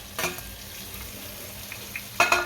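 Stuffed ridge gourd frying in oil gives a soft, steady sizzle throughout, with a brief louder crackle near the start and a sharper burst of sizzling near the end.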